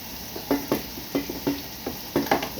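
Garlic sautés in a hot pan: a spatula scrapes and stirs in a loose rhythm of about ten sharp strokes over a faint, steady sizzle, with no talking.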